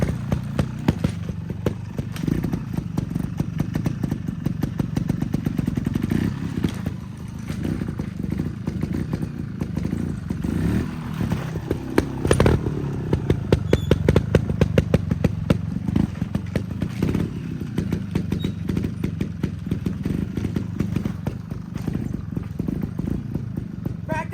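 Motorcycle engine revving in bursts with clattering thumps as the rear wheel is hopped using a clutch pop, loud and close, repeating irregularly throughout.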